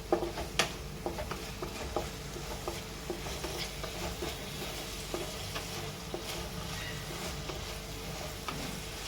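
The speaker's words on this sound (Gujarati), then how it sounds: "કાંદાને આપણે થોડી વાર સાતળી લઈશું" Onions sautéing in a pan for a Gujarati cheese paneer gotalo give a continuous sizzle, broken by sharp scraping and tapping from stirring. The frying sounds close and fairly loud.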